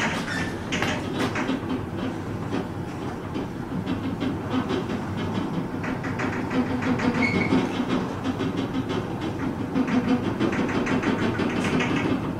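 A Schindler Houghton/Millar traction scenic elevator rising, a steady low mechanical hum and rumble with faint clicking running continuously and swelling slightly as the car climbs, no voices.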